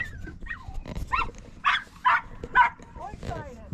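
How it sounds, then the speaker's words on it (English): An excited dog near a trail gives a short burst of yips and barks, about five loud close calls in quick uneven succession with whimpering between, while people talk nearby. "This dog is so excited to run."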